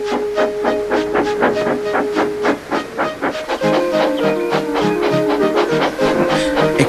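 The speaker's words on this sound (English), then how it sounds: "The heavy train drew out of the platform." A heavy steam train pulls out of a platform, its chuffing exhaust beating in a steady, quickening rhythm under a hissing steam bed and a sustained whistle-like tone, loud and close.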